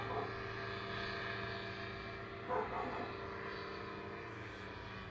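A small dog of about twenty pounds barks once or twice in a short burst at middle distance, set against a steady droning hum like a passing propeller aircraft.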